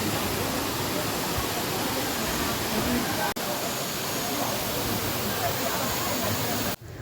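The Vazhuvanthol waterfall roars as a dense, steady wash of falling water close by, unbroken and loud, with faint voices beneath it.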